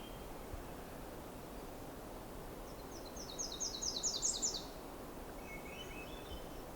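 A Myrtle Warbler sings a single soft, rapid trill of bright notes midway through, fairly distant over a steady outdoor hiss, followed by a fainter short call.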